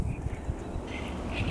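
A mallard duck call being blown near the water, giving a few short quacks over faint outdoor background noise.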